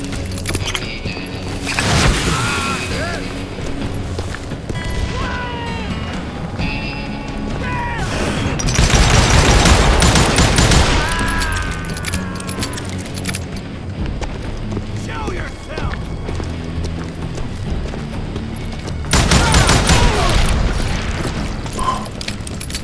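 Gunfire and explosive booms in the Western shooter Call of Juarez Gunslinger, with loud bursts of shots clustering in several intense waves over game music and effects, separated by calmer stretches.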